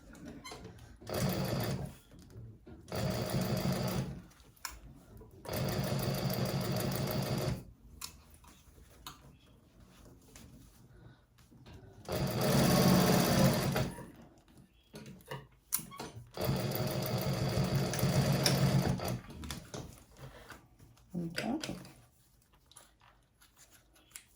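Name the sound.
sewing machine stitching handbag lining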